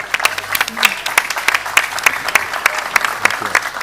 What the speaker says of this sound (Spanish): Recibimos con un fuerte aplauso a Paco García Caridad.